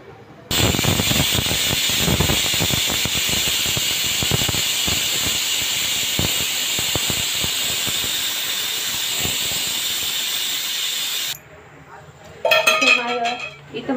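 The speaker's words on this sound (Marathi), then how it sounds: "इथं माझ्या कुकरचे शिट्टे घेऊन झालेला आहे।" A pressure cooker on a home kitchen stove lets off a loud, steady jet of hissing steam with a whistling tone for about eleven seconds, then falls quiet before a short burst of clattering.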